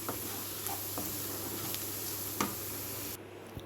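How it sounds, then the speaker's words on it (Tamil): Masala sizzling steadily in hot oil over a low flame for egg curry, a continuous close frying hiss with faint stirring taps, the sizzle cutting out near the end. "கொட்டிட்டு மசாலா அப்படியே எண்ணெயிலே வதங்கணும்"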